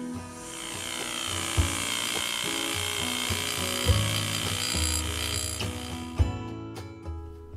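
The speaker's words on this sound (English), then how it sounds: "what you see me doing here is going over the whole cavity with a stipple tool" Stipple tool with a sharpened carbide point texturing a steel Colt 1911 pistol during hand engraving: a continuous buzzing mechanical whir with a few small knocks, close and moderately quiet, with no talk.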